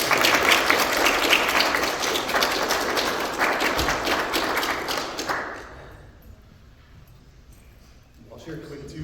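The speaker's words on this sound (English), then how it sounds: "So, one more round of applause." An audience applauds at an Eagle Scout court of honor for Troop 337, a loud, dense round of clapping that fades after about five seconds into quieter room noise and murmuring voices.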